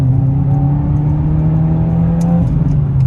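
2022 Subaru WRX with a muffler-deleted exhaust, a close, loud, steady droning rumble with a faint quick tick or two near the end, no voices.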